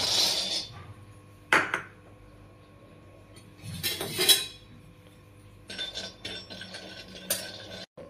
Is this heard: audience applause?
no